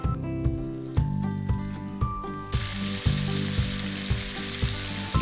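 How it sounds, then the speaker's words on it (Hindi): Chicken drumsticks fry on high flame, a dense sizzle running throughout, punctuated by regular sharp knocks roughly once a second like utensil taps against the pan. "चिकन को हमने 1 से 2 मिनट के लिए इसमें यानी कि हाई फ्लेम पे ही पकाना है।"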